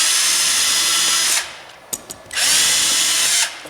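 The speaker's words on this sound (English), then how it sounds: "just in case I have this drill here" Power drill driving hinge screws into a wooden nightstand door: two loud bursts of whirring, the first about a second and a half long and the second longer, separated by a short pause with a couple of faint clicks.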